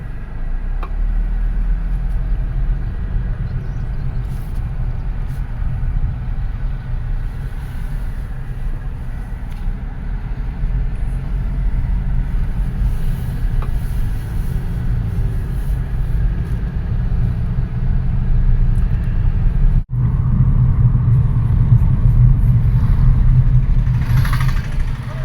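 2014 Mitsubishi Outlander with a CVT pulling away in drive, heard from inside the cabin as a steady low engine and road drone that holds for a long stretch and grows slightly louder near the end.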